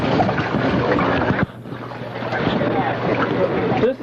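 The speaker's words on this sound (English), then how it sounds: "Just feeling out his new boat. Heading back into some head seas here." A boat running into head seas during a 1978 race at Mar del Plata, with steady loud engine and water roar, heavy wind buffeting on the microphone and a brief dip in the middle.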